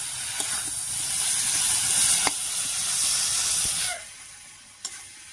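Pointed gourd pieces with turmeric and salt are mixed in a hot pan, giving a steady, loud, close sizzle with light stirring scrapes that drops sharply near the end, leaving a quieter hiss and a single clink.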